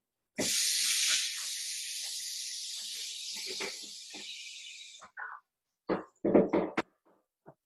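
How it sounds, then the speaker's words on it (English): A cutting board smeared with coconut milk rinsed under a running kitchen tap: a steady hiss of water for several seconds, then stops, followed by a few close knocks and clatters as the board is handled. "I'm just going to rinse off my cutting board because I got some coconut milk on it"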